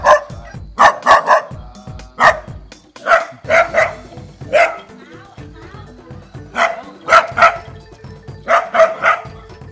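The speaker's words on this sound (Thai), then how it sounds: "มีน้องหมาประจำซอยมาเห่าใส่แบบนี้" Neighborhood street dogs in Thailand barking at a pig following monks on their morning alms round: repeated loud, close barks and yips in uneven bursts, with brief gaps between volleys.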